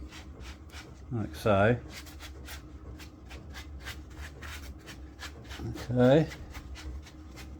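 Colouring finish is rubbed by hand onto the surface of a rustic wooden tree trunk table, a soft steady scrubbing rasp close up, with brief talk over it twice.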